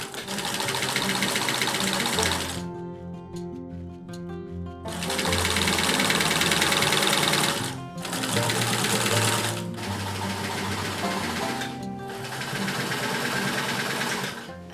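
A sewing machine stitches a fabric rug made from old clothes, running in long steady bursts with brief pauses between seams, close and loud throughout.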